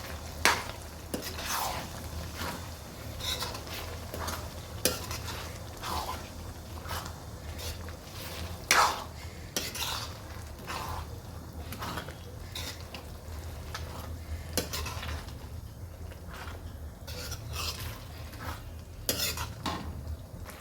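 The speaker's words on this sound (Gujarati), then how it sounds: "ટામેટાની ગ્રેવી કરી દઈએ નાખીશું હવે વચ્ચે વચ્ચે આવી હલાવતા રહીશું આપણે ગેસની ફ્લેમ ફૂલ જ રાખવાની છે" Tomato gravy fries in a pan over a full gas flame and is stirred now and then, giving repeated scrapes and clinks of a utensil over a low steady sizzle. No one speaks.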